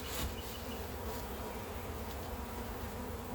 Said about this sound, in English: let's calm these bees back down now that I did that